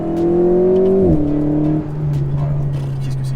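An Alpine A110S sports car drives along with a loud, close engine drone whose pitch drops sharply about a third of the way in, like a gear change, then holds steady. No one speaks.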